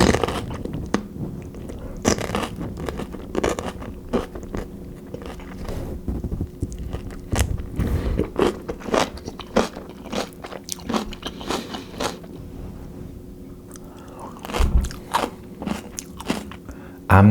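Crunchy store-bought kimchi is chewed close to the mic, giving repeated wet crunches and bites in an irregular rhythm with soft scraping between them. No one speaks.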